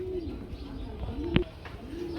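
Racer pigeons coo softly with repeated low, throaty rolling calls, and one short sharp flutter or tap breaks in midway.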